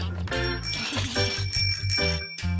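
A cartoon bicycle bell rings in a rapid series of bright metallic dings, loud and close, with short gaps between bursts and no talk over it.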